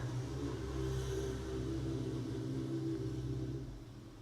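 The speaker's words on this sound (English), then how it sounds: "And now a motorbike." Steady low engine rumble of a passing motorbike, loud and close, holding for several seconds before easing off at the end.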